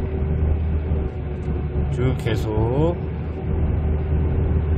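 A 2003 Kia Sorento engine revving drones steadily at close range, with a brief voice speaking over it midway.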